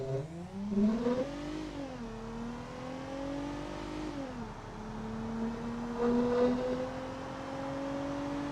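A Mercedes C200 with the AMG package in BeamNG.drive accelerates hard, its engine tone climbing through gear changes as a steady, close drone that rises, dips and rises again, with no talking.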